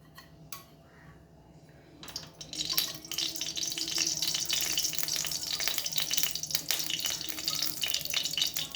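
Oil sizzling steadily in a hot wok (kadai) for cooking potatoes, a loud continuous hiss that starts after a few quiet seconds with a couple of light clinks, then holds with crackle.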